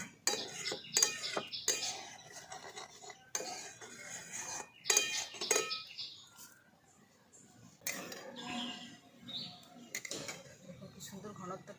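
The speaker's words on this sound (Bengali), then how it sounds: "সব কিছু একসঙ্গে ভালো করে মিশিয়ে নিচ্ছি" Thick biscuit kulfi mixture stirred in a pan, repeated scraping and clinking of a spoon against metal in uneven strokes, with a voice talking at times.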